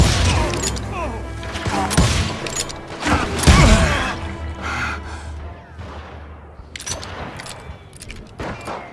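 Western-era gunfire in Call of Juarez, a few sharp shots and rattling mechanical clatter in a tense firefight, with gasps and sparse voice sounds mixed in.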